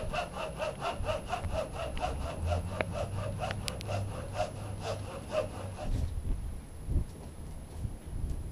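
A hand saw rasps back and forth through a tree trunk outdoors, steady rhythmic strokes close and loud for about six seconds, then the cutting stops and only faint rustling and low background noise remain.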